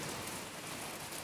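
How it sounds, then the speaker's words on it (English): Steady rain falls outdoors during the rainy season in India, a dense, even hiss of drops over a short stretch with no voices. "Here in India, it's raining outside."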